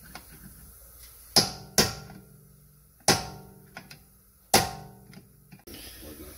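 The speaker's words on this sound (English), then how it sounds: "Then go ahead and punch in the shoulder on the retaining nut to go ahead and lock it onto" Sharp metallic hammer-and-punch strikes on the retaining nut shoulder of a 2003 BMW 325xi E46 front CV shaft, five distinct hits at irregular intervals, close and clear in a quiet garage.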